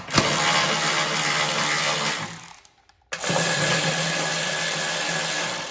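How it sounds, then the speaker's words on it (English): A powered driver with a 10mm socket tightens bolts on a John Deere lawn tractor blade hub. It makes a loud, steady whir, winds down to a brief silence, then starts again at full speed, with no voices. "it's a 10mm socket. We'll tighten these up."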